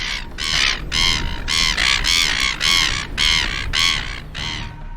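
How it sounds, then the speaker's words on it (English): A gull calls again and again with loud, harsh, rhythmic cries, about nine in quick succession, close and alone. "as Karori the gull called back his challenge"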